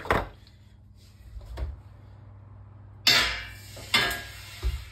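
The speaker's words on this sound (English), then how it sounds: "And I'm going to put a few ice cubes in the bottom." A few ice cubes are dropped into the bottom of a hot oven at 230 degrees to make steam for a sourdough loaf, giving sharp clattering impacts followed by brief hissing sizzles, close and fairly quiet.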